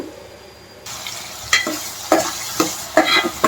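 Prawns go into a pan of simmering tomato curry with a quiet hiss that swells into steady sizzling, punctuated by several sharp scraping stirs and clatters, close and with no voices.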